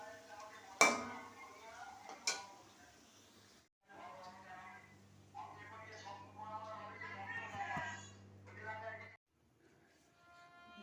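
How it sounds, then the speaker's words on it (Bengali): In a home kitchen where pakoras are frying, metal pots and utensils clink twice sharply, then lighter rattles follow while a person talks nearby. "এখন একটু পকোড়া ভাজছি"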